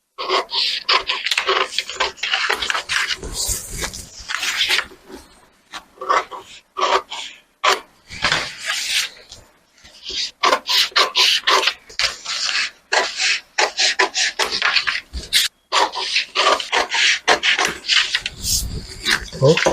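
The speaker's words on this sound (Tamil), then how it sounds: "இப்போ இதை நேராக முதல்ல நான் கட் பண்ணிடுவோம்." Scissors cutting blouse fabric for a 43-inch chest straight cut, intermittent crisp snipping and rustling of cloth up close, with a person talking throughout.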